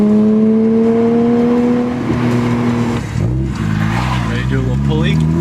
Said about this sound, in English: They could probably hear me with my JCR exhaust titanium.